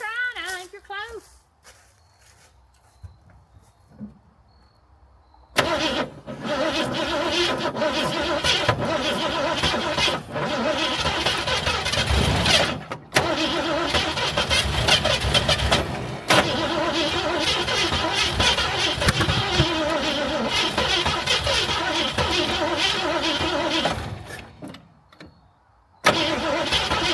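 An old Ford Maverick that sat for over twenty years cranks and catches, its engine running loud and rough for about twenty seconds with brief dropouts before cutting off, then restarting briefly; voices talk faintly around it.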